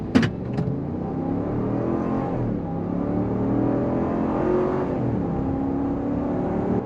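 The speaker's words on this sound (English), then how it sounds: "we're gonna go ahead and try 0 to 60 on this thing" A Jeep Wagoneer Series II accelerates hard from a standstill to 60 mph, the engine note climbing steadily through the gears with brief shifts, loud and close from inside the cabin, with no talking.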